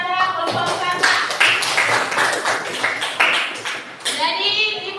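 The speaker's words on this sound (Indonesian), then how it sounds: "Oke, beri aplaus kepada kelompok 4." A classroom of children claps for group 4 during a school lesson, with steady, fairly close hand clapping throughout and a few children's voices mixed in.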